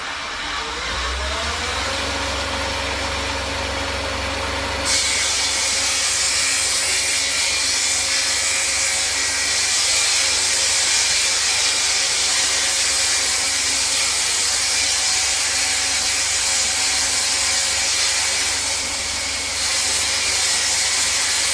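A Shopsmith saw blade rips through a cracked board, building from a low motor hum into a loud, steady whining roar that holds unbroken to the end.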